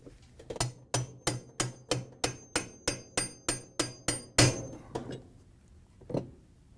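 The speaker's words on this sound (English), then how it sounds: "use the spanner wrench to tighten the hub nut" Spanner wrench tightening the hub nut on a GE washer inner tub hub: about fourteen sharp, evenly spaced metallic strikes close up, then a louder hit and one final knock after a short pause.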